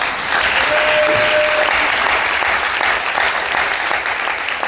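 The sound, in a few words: church congregation applauding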